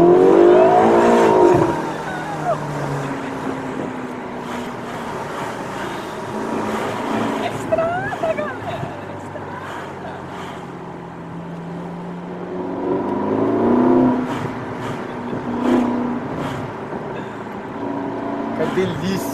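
A Ferrari California Turbo drives through Maranello, its engine humming and swelling in smooth, moderate revs from inside the cabin, while a voice talks over it now and then.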